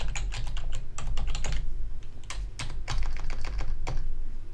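Fast, close keystrokes on a computer keyboard as a new password is typed while setting up a WordPress site. Dense clattering bursts are broken by a brief pause midway, with no voices.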